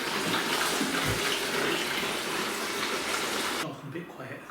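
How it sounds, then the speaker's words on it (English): Steady water sound from a loosened fitting dripping into a glass during bedroom decorating, a continuous close wash that cuts off suddenly near the end. "That side's loosened off, little drip, but the glass is keeping up with it."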